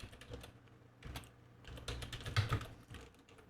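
A computer keyboard is typed on at close range during a Portuguese-language lesson, giving a steady burst of clicking keystrokes that grows slightly busier toward the middle, with no talk.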